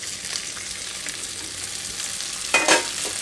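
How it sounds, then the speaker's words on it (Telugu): Gongura leaves fry in about two tablespoons of hot oil with a steady, close sizzle that swells briefly into a louder crackling burst near the end, as if stirred. "ఆయిల్ కొంచెం కాగనిచ్చి ఈ గోంగూరనంతటిని ఇందులో వేయించుకుంటున్నానండి."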